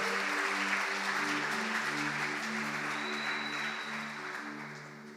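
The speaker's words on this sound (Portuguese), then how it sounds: "Vamos aplaudir Jesus" A church youth gathering applauds Jesus in a steady wash of clapping over sustained music tones, fading slightly toward the end.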